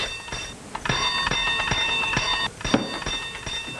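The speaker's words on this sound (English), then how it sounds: "Oh, stop ringing that bell." A bell rings insistently in a domestic setting, a bright metallic ringing with sustained overtones and repeated strikes throughout, fairly loud and close.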